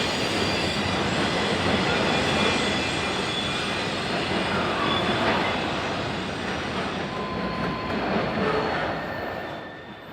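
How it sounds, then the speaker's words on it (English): A Union Pacific freight train rolls steadily past Dolton Junction, a continuous loud rumble of wheels and cars with faint wheel squeal, slowly easing off toward the end. "another Union Pacific train heads for Yard Center"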